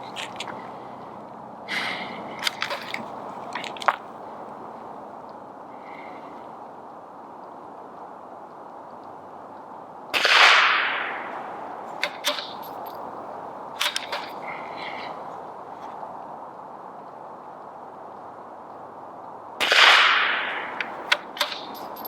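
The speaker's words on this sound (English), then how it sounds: "So let's take a couple shots." Two rifle shots are fired from the prone position on a range, each a sharp, loud crack with a brief echoing tail, about ten seconds apart. Quieter clicks and handling noises fall between them.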